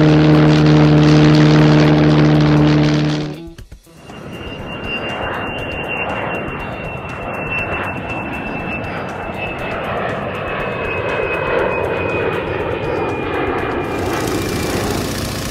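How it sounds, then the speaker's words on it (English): A private jet's engines roar steadily and loudly after a brief burst of music, a broadband whoosh with a high whine that holds for about twelve seconds, swelling slightly near the end. "Private jet."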